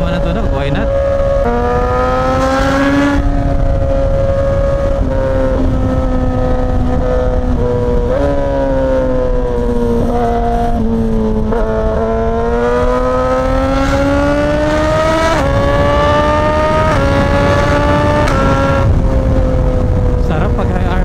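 A Suzuki GSX-S1000 motorcycle engine revs repeatedly, its pitch climbing and falling through loud, close throttle blips, with people talking over the rumble.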